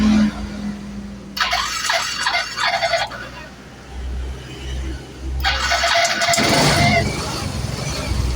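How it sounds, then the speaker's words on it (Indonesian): A previously stalled motorcycle with a weak battery cranks with a whirring starter burst, then catches and runs, settling into a loud, steady idle with a brief revving surge. "Oke, dan motor langsung hidup ya di sini."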